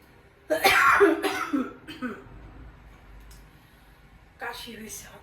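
A person coughing indoors, a cluster of two or three harsh close coughs followed by throat clearing, then a quieter pause and another short rough burst.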